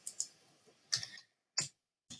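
A few keys are tapped on a computer keyboard, sharp clicks spaced apart with short quiet gaps between them, close and faint.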